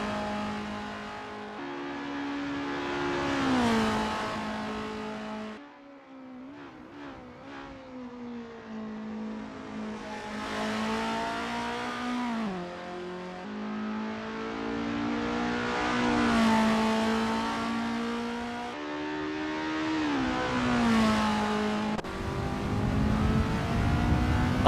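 Several race cars warming up at Westwood 1988 in a Formula racing video game, engines droning and revving continuously, pitch rising and falling as they accelerate and pass, with no voices.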